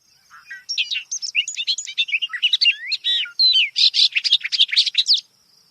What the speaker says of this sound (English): the bobolink has a natural sound resembling the iconic astromech droid